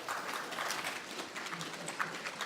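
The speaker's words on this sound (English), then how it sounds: "take your phones in your hands as you would normally hold them and start clapping for me" Scattered, light clapping from an audience holding their phones at a talk event, thin and fairly quiet with uneven rhythm over a couple of seconds.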